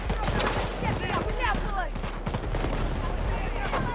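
Video game gunfire crackles in quick irregular bursts over a constant low rumble, with speech mixed in over the shooting.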